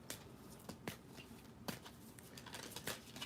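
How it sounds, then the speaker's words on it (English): Tarot cards are shuffled at close range in a series of soft, quick riffles and taps, faint and fairly steady, with no talking. "So I'm going to shuffle."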